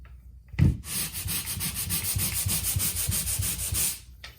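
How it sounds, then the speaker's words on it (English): Steady, rhythmic scratchy rubbing of sandpaper against a ceiling after popcorn texture removal, continuous for a few seconds, close and fairly loud, with no talking. "So little finishing touches, just sanding in spots"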